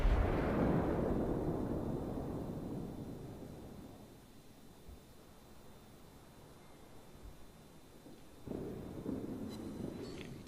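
A heavy naval gun salvo from a battleship in World of Warships, one loud booming blast at the start that rolls away into a long dull rumble, with a second smaller thump near the end.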